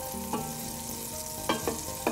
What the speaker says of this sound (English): So we have this pan which has been heated, and you can hear it sizzling